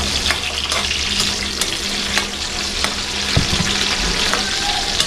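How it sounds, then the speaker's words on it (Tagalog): Tomatoes stirred into a pan and frying, giving a loud, steady sizzle throughout with occasional scrapes and clicks from stirring, up close and with no voices. "Ihalo din natin itong kamatis para pagsabsama na rin. Para sabayan ng luto."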